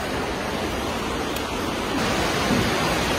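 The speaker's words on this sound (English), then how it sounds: "It's very noisy here because we're on top of the loud creek." Loud, steady broadband rush of a creek flowing beneath a bridge, close by and continuous, slightly swelling toward the end, with no voices.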